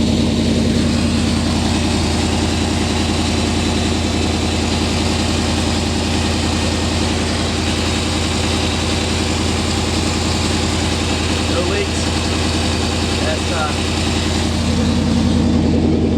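A 1991 Chevrolet V2500 truck engine idles steadily and loudly up close after an oil cooler install, a constant low rumble with a rhythmic lope that stays even for the whole stretch, with no talking.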